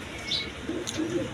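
A cream-bar pigeon coos softly in short, close phrases, with a faint chirp at the start and low ambient noise around it.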